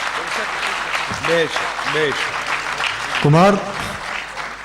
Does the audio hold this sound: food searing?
no